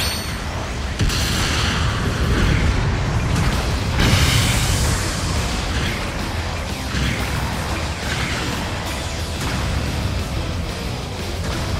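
A mobile suit blowing up in Mobile Suit Gundam Battle Operation 2, a dense rumbling blast with a louder surge partway through, then sustained roaring debris and mechanical noise that stays loud throughout.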